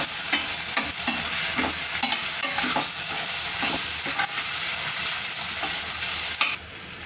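Ground masala paste and onion fry in a pan for a bitter gourd dish, with a steady sizzle under repeated scraping and stirring strokes of a spoon, fairly close.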